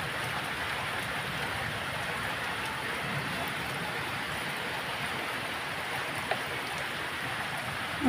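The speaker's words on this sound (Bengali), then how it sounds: "চলো দেখতে থাকো কিরম গুড়ি গুড়ি বৃষ্টি পড়ছে, না জোরে জোরেই বৃষ্টি পড়ছে" Steady rain falls on a rural homestead with gourd vines, a continuous even hiss at moderate volume with no breaks.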